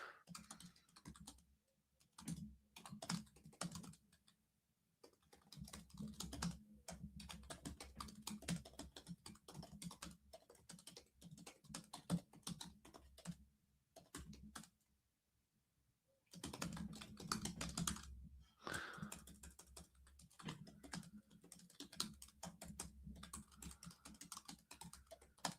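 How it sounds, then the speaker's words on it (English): Rapid clattering keystrokes on a computer keyboard, bursts of busy typing broken by a couple of short pauses, close and moderately loud with no talking. "Sorry, you got to listen to me battering the keyboard."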